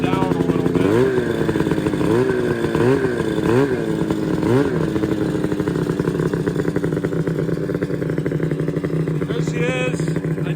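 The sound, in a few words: Ski-Doo MXZ snowmobile engine running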